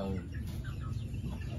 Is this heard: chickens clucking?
yes